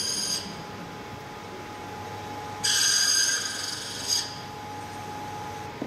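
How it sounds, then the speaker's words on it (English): Analog key copying machine cutting a blank key, a steady mechanical hum punctuated by a harsh bright grinding rasp of about a second and a half, then a brief second scrape, close and loud. "I'm getting myself an analog copy machine."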